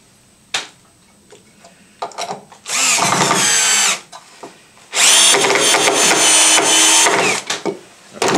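A power drill drives a screw into a small piece of hardwood in two loud, sustained bursts of about a second and a half each, with a few short clicks and taps before them.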